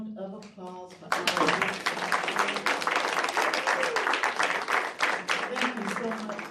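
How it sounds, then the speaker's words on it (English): After a brief spoken line, an audience breaks into dense, sustained clapping that holds steady and loud for several seconds at a gathering honoring a U.S. Attorney. "one big round of applause for our"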